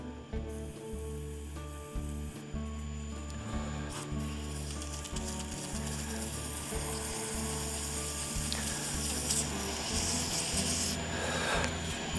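A burl and resin shaving brush handle being sanded, giving a continuous rasping rub over a steady low mechanical hum that stays even and close for the whole stretch.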